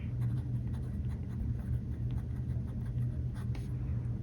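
A gold-nib fountain pen scratches steadily across paper in close, faint strokes, the dry scribbling running continuously over a low background hum without any talk.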